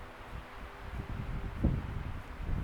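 Wind blows through trees in open US countryside, a steady moderate rushing and rustling that swells toward the end, broken by one brief thump.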